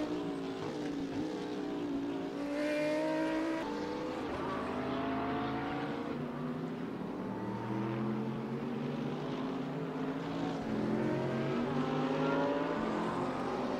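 Race cars in the RaceRoom Racing Experience video game during a sim race, producing a continuous, loud engine drone whose harmonics rise and fall as the cars shift and pass each other, with no talk over it.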